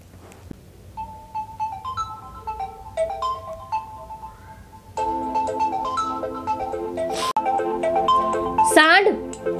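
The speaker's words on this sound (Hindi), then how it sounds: "किसका फोन बज रहा है" A mobile phone ringtone melody plays nearby and grows louder partway through, while people talk over it.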